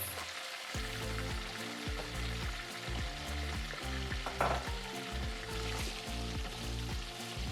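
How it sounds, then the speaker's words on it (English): Tripe and beef foot fry in hot oil for a Nigerian buka stew, giving a steady, close crackling sizzle that runs continuously with no speech. "So this is just going to be briefly fried."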